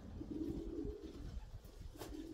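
Pigeons coo nearby in a low, throaty run that fades and then returns near the end, over a faint hiss with no speech.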